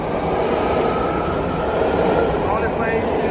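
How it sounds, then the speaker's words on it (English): A 6-car BART Red Line Richmond train departing Embarcadero station in San Francisco, with a loud continuous underground rumble and faint wheel squeals near the end, under background voices. "this is a red line Richmond train, 6-car now departing Embarcadero station on platform 2"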